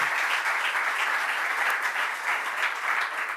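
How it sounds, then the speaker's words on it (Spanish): Sustained applause from a large crowd at a book launch event, dense and steady clapping throughout with no voices standing out. "pedimos un fuerte aplauso y todo el agradecimiento del mundo."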